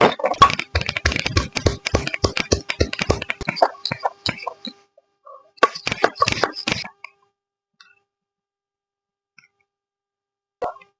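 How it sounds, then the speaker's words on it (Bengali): Ginger being ground on a traditional stone slab (shil-nora), heard as rapid, close scraping and knocking strokes for about seven seconds, then near-silence with a single late knock. "প্রথমে আদাগুলো বেটে নিচ্ছি"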